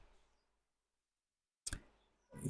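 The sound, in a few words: computer mouse click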